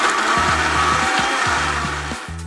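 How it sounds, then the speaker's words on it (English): A blender whirs through a pisco sour with ice and egg white, loud and close, with rhythmic rattling pulses as the ice cubes knock around the jar. "And then blend until integrated."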